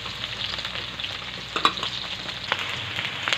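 Garlic and onion fry in a hot pan for adobo, giving a steady close sizzle with crackling pops and a few stirring clinks, no voices.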